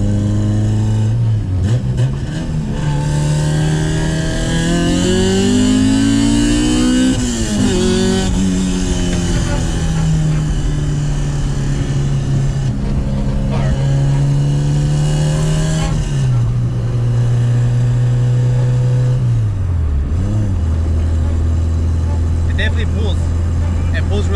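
A 1997 Honda Civic built for performance accelerates hard while driving, its engine climbing in pitch through several gear changes, dipping at each shift and rising again, loud and close, with talk inside the car underneath.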